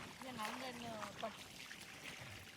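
Liquid is poured for a village-style chocolate milkshake, a soft trickling stream running steadily under a voice and some background chatter.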